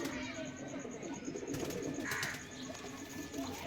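Pigeons kept as pet birds coo softly in repeated low calls, fairly faint against a steady background hum, with a brief higher chirp partway through.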